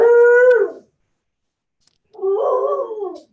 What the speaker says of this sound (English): so my dogs are excited